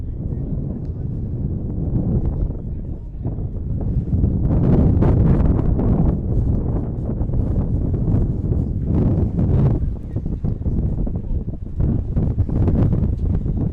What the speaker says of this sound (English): Wind starting to pick up here.